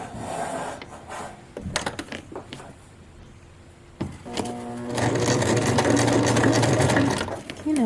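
A sewing machine runs zigzag stitches along a pants waistband: brief bursts and pauses at first, then a loud, continuous close-up mechanical whir to the end.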